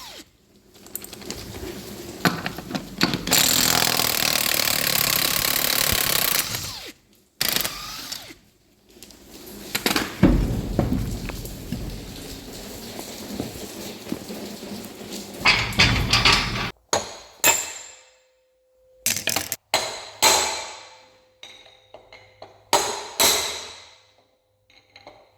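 Work on a loose farm wagon wheel to check its bearing brings bursts of metallic hammering and tool noise, loud stretches broken by pauses and shorter clanks near the end, with no talk.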